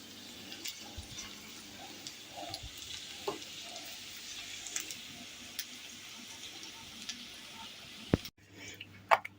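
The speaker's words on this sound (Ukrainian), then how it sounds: "І так смажимо всі наші цибульнички." Soft, steady sizzling of meat and onion patties frying in a pan, with occasional faint clicks and clatters, ending in a louder clunk.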